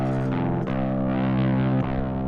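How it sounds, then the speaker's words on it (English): Electric guitar played through fuzz distortion, a thick, sustained, buzzing chord that rings steadily and loudly for a couple of seconds with only brief dips. "I do think it sounds pretty damn good with fuzz"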